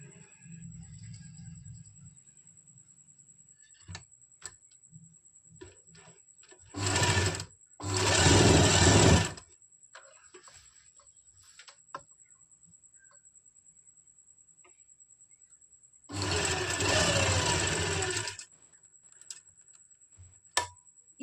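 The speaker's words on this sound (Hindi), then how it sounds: "अब हमारा जो ये दूसरी साइड वाला क्रोच है इसमें भी हम सिलाई लगा लेंगे" A sewing machine stitches the crotch seam of an umbrella palazzo in two short runs, one broken burst and then a longer steady whir, with quiet pauses and faint handling clicks between.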